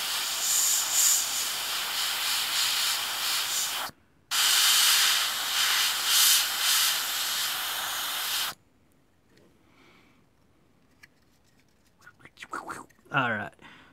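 An airbrush hisses steadily while spraying paint onto a Focke-Wulf scale model, running in two long bursts with a brief break between them, then falling quiet before a few soft handling noises close the passage.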